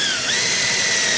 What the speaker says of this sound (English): I'm going to drill the back one first